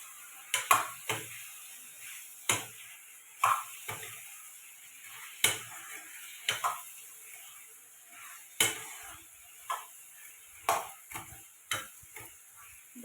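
Prawns cooking in hot oil with turmeric, stirred with a utensil: sharp scraping and clinking strikes against the pan recur every second or so over a soft continuous sizzle, close and moderately loud.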